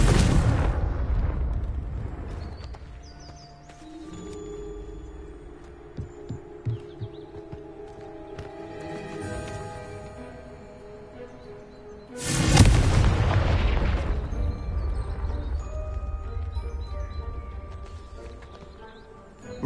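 Confringo spell explosions go off in a Harry Potter video game on PlayStation 5: two loud booming blasts about twelve seconds apart, each with a long rumbling decay, while a voice calls out spells.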